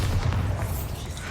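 A dull, low booming blast from the Bombarda spell in the video game Hogwarts Legacy, a muffled rumble that fades over about a second.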